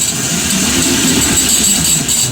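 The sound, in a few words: alternator motor electric moped running at half throttle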